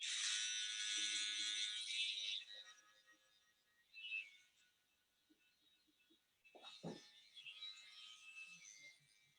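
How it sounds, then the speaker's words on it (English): Electric hair clippers buzz steadily for about two seconds while cutting over a comb at the nape during a barbering session, then a few softer, brief passes follow, fairly close. "just using clipper over comb in the nape area just to get a nice clean finish"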